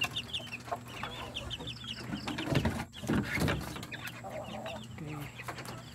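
Native chickens cluck and chatter in a backyard farm pen, several birds calling near and farther off in an uneven stream over steady outdoor background, with a brief louder flurry midway.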